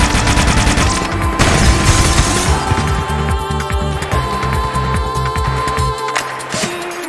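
The Needler from Halo: Combat Evolved fires a loud, steady stream of rapid shots that blend into a rattling, layered barrage before it cuts off abruptly near the end.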